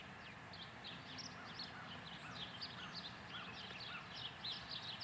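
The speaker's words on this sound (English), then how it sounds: "Can you hear the birds?" Birds sing in a spring garden, with repeated quick chirps and trills that sound faint and distant against a soft outdoor background. Nobody talks.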